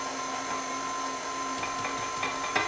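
A stand mixer runs steadily on its lowest speed working cookie dough with dry ingredients for Christmas cut-out cookies, a constant motor hum with faint intermittent knocks and scrapes from the bowl.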